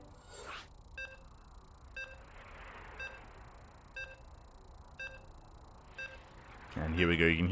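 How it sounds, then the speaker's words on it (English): Evenly spaced electronic beeps from a StarCraft broadcast, roughly one per second, six in a row and faint, followed by a sudden louder burst at the end. "you can hear the beeps"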